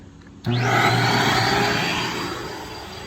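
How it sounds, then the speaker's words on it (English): A Vortex Lite portable carpet-cleaning vacuum switches on abruptly and roars with a steady, loud hose-suction whine and motor hum, holding constant and easing slightly toward the end, with no talking. "I can't get the vacuum hose off my hand with 50 feet."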